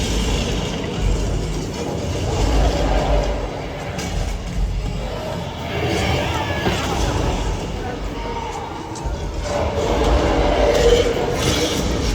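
A Universal Studios Hollywood studio tour tram rolls along with a steady low rumble and rattle, while a voice speaks over the ride throughout and the noise swells and fades slightly.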